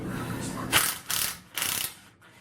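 A ratchet with a 12mm socket turns the flywheel nut on an Eton 41.5cc engine, giving three short bursts of close, dry clicking.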